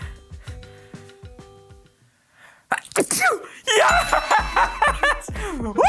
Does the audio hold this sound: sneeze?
yes